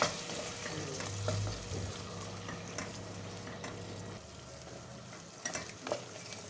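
Two eggs fry in melted butter in a pan with a steady, close sizzle and occasional scraping stir sounds. A few louder clicks of a utensil come near the end, and no one speaks.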